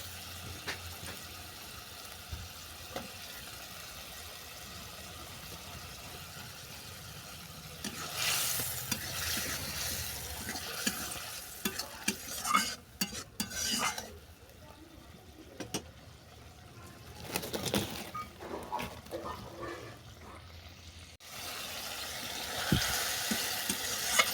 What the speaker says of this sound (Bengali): মোরলা মাছটাকে 1 মিনিটের মতো ফুটিয়ে নিলাম আর নেড়ে ছেড়ে জলটাকেও শুকনো করে নিলাম।